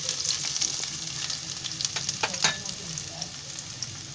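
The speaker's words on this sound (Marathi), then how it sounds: "अरे कांद्याची आहे ना चांगली फ्राय करून घ्यायची" Chopped onion fries in oil in a kadhai for a Marathi bottle gourd bhaji. A steady, close sizzle crackles throughout, broken by a few sharp clicks and scrapes of stirring.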